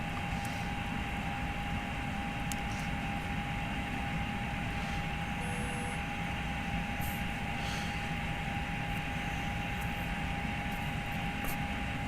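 Steady drone of a simulated airplane engine in Microsoft Flight Simulator X, a constant hum with a fixed tone running evenly throughout, broken only by a few faint clicks.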